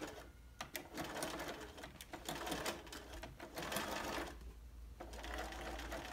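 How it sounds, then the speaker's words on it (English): A sewing machine stitches a pillow seam in short bursts of fast mechanical whirring and clicking, close by and moderately loud, pausing briefly near the end before running again. No voices are heard. "So drop your presser foot down, change the needle so it's on the outside."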